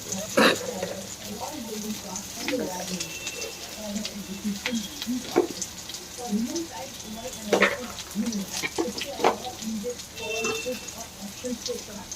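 Peanuts go into a hot frying pan with oil while cooking drumstick and potato, giving a soft steady sizzle with occasional clinks and stirring sounds, as someone talks throughout.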